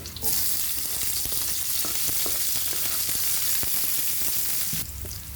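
Garlic and onion fry in a pan for a bitter gourd (ampalaya) dish, giving a steady, close sizzle with light stirring clicks that runs for about five seconds before cutting off.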